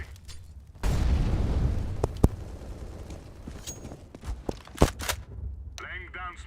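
An incendiary grenade bursts in a Counter-Strike match at a major grand final, a sudden loud whoosh and roar of flame followed by sharp pops and gunshots, with voices talking over parts of it.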